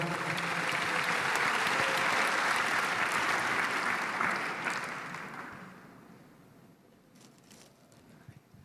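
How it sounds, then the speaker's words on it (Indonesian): Audience applause at a formal speech event, a broad steady wash of many hands clapping for about five seconds before fading out into near silence. "Ya, tepuk tangan."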